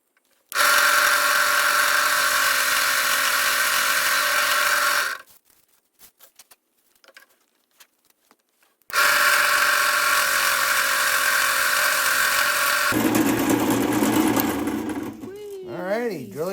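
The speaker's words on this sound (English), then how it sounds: "Drilling holes is fun." A power drill boring holes, two long steady high-pitched whining runs separated by a quiet pause, followed by a shifting, wavering tone as the bit slows and another sound begins.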